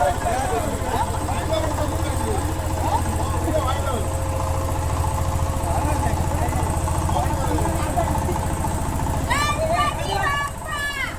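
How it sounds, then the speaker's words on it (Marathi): During a Ganpati immersion procession in Konkan, a tractor engine runs with a steady low throb throughout, while chanting and voices from the crowd sound over it and a burst of whistling comes near the end. "पाहू शकता आपला ट्रॅक्टर आहे."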